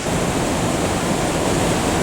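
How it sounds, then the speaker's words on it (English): The Devil's Throat waterfall roars close and loud as a dense, unbroken wall of rushing water, with no voices. "It's the largest waterfall in the whole world!"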